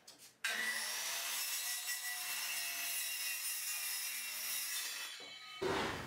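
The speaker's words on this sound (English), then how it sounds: "just drop the saw down into the plywood and go along that way" A circular saw cuts through plywood in one long, continuous pass, its high, loud whine starting abruptly, holding for about five seconds and then stopping, with no talking over it.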